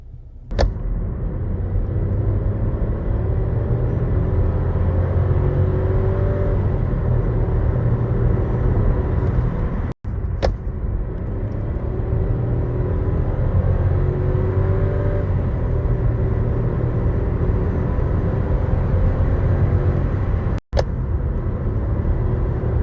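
Seat Arona 1.0 TSI 110 with DSG gearbox accelerating, a continuous engine drone and road rumble rising steadily, broken by two brief gear-shift dips.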